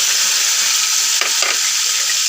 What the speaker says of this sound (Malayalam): ആ തേങ്ങാക്കൊത്തും കൂടി എടുത്ത് ഒരു ചെറുതായിട്ട് ചുവന്ന കളർ വരുന്നവരെ വഴറ്റി കൊടുക്കുക.